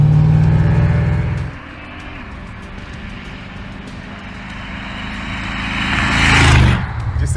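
The V8 engine of a Chevy Caprice 9C1 police sedan revs through different throttle positions while being tuned, a loud low rumble dropping to idle and then swelling again near the end, with voices talking over it.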